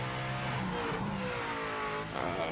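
Hypercar engine in the Project Motor Racing video game revving and shifting, a short close burst of rising and falling engine tone with no voices.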